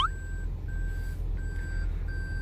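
A Toyota Alphard's reversing alarm beeps in a steady repeating pattern of clear tonal pulses, about four evenly spaced beeps, heard close over a low engine and cabin hum.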